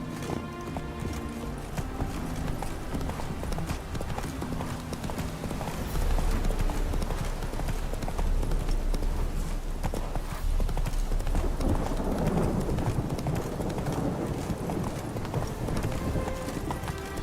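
Horse hooves clip-clopping in The Witcher 3, a continuous, fairly quiet trotting rhythm with a faint whinny, steady throughout the passage over ambient game sound.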